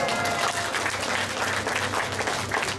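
A crowd at a talk on finding sustenance claps loudly together, a dense, even burst of applause that holds for a few seconds without pause.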